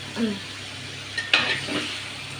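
Avial, a vegetable dish with curd and ground coconut paste, being stirred in a pot: a couple of short scraping stirs and a light clink over a faint background hiss, nearby with no voices.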